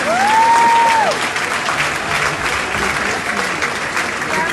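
A crowd at a Catholic church gathering in Nigeria applauds a 25 million naira donation with full, steady clapping, while a brief rising whistle or cheer sounds at the start.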